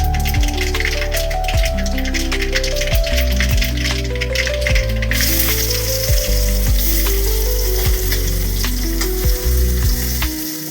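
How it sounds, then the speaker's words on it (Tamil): Loud, continuous sizzling of chopped onions frying in a pan for tomato chutney, with occasional rattling scrapes of a utensil stirring. "வெங்காயம் ரெண்டு நிமிஷம் வதங்கட்டும்"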